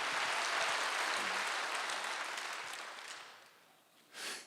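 A church congregation claps during a Wednesday worship service, dense broadband applause that swells and then tapers over several seconds, ending with a short final burst.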